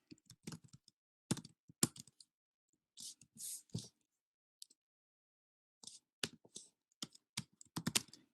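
Fast bursts of typing on a computer keyboard, quiet and close, with clusters of key clicks separated by short pauses.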